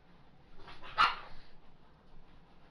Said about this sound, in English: One of my dogs is straight freaking out on the other one.